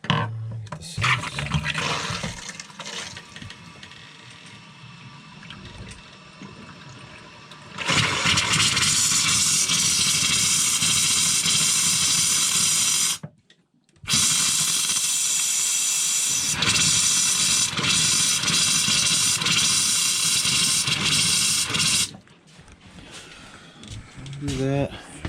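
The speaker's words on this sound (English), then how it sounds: "So I have to go around and drain out all the air out of your lines." Air and water sputter and hiss loudly from camper faucet lines being drained during winterizing, long roaring bursts broken by a brief pause, with quieter spraying and talking around them.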